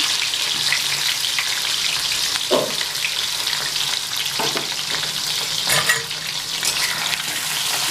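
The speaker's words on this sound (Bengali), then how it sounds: "আলুটা একটু ভাজা ভাজা করে নিচ্ছি।" Potato pieces coated in salt and turmeric fry in a pan, giving a loud, steady sizzle with scraping stirs and a few clinks, close up, with no talk.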